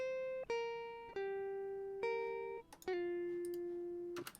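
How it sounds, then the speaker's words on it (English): A dry, unprocessed electric guitar with no amp simulation picks a slow lead line of sustained single notes, each ringing clean and fading, quiet and close with no voices. "if we just listen to just the guitar, so there's no amp simulation on there or anything, it sounds like this"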